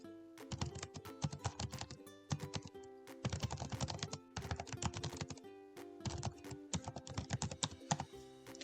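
A computer keyboard clatters with rapid, continuous keystrokes as a prompt is typed, arriving in several dense bursts separated by brief pauses, close and clear with no talking.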